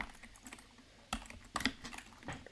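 Typing Python code on a computer keyboard gives a few faint, scattered key clicks with short pauses between them in a quiet room.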